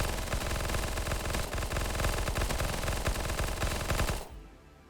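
Rapid automatic gunfire blasts continuously in Starbound, loud and dense with a fast rhythmic pulse, then cuts off abruptly near the end, leaving a faint tail.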